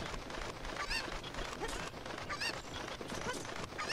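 Cucco chickens from Zelda: Ocarina of Time, clucking and squawking repeatedly with a busy, continuous flurry of calls, fairly loud and close, with no talking.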